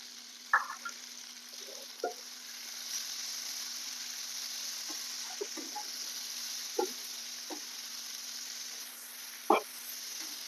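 Raw green beans stir-fried in oil in an iron kadai give a faint steady sizzle, with a few sharp clacks of a spatula against the pan. The sounds are close, quiet and spread out.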